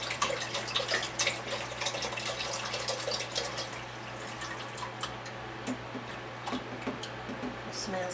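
About 32 ounces of liquid from a container is poured into a cooking pot, a splashing, trickling flow that is strongest at first and thins to scattered drips and gurgles, close by and without talk.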